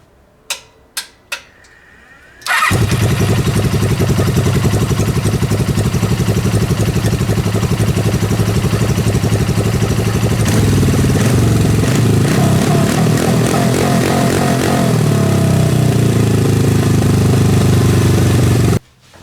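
A Suzuki GS500 motorcycle engine just after repair starts with a few short cranks and then settles into a loud, steady close idle with mechanical clatter, running alone without speech.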